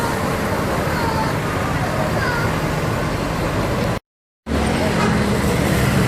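ANS intercity bus arriving after its first trip from Padang, heard as a steady loud rumble of engine and roadway noise with a brief cutout partway through.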